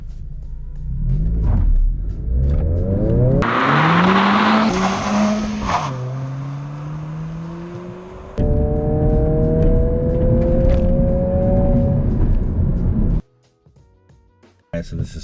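A 2022 Honda Civic Si launches in sport mode from a regular takeoff, the engine climbing through rising revs with gear changes and tire noise, loud and close, ending in near quiet.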